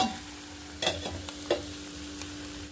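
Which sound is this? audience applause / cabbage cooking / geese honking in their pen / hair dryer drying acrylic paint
cabbage cooking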